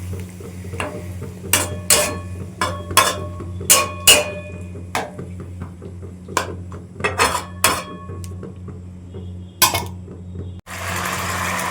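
Metal spoon scraping and clinking against a pan while spice paste is stirred and fried for a jackfruit curry, irregular sharp knocks over a steady low stove hum, ending in a hiss of frying.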